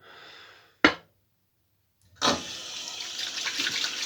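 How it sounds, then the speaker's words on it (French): A wet shaving brush is squeezed and shaken over a sink to wring out water, heard as a short trickle, a sharp flick, a silent pause, then a steady rush of running water. "On essore sa brosse un maximum."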